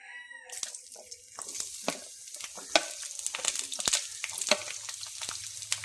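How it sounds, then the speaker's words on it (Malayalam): Chopped ivy gourd hits hot coconut oil in a Kerala home kitchen and fries with a steady sizzle, broken by sharp clinks and scrapes of utensils throughout. "ഈ എണ്ണയിലേക്ക് അരിഞ്ഞു വച്ചിരിക്കുന്ന കോവയ്ക്ക ചേർത്ത് കൊടുക്കാം"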